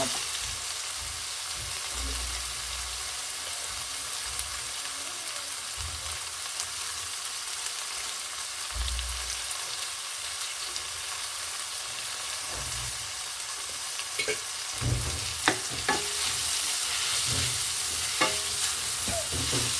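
Chopped vegetables with tomato and salt fry in a pan for a vegetable ragi upma, a steady hiss of sizzling with occasional stirring scrapes and clinks, no talking.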